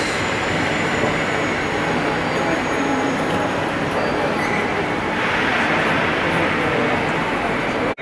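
A steady, loud rumble and rush of an Italian high-speed train fills the whole stretch, with a faint squeal rising in the second half.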